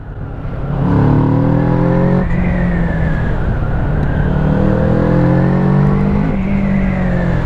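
A Kawasaki Z650 A2 motorcycle engine pulls hard under heavy throttle, its loud, close exhaust note climbing in pitch through a gear change, then climbing again steadily.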